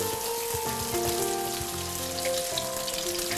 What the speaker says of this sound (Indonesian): Dan kita tumis agar hampir matang selama maksimum 1 menit saja.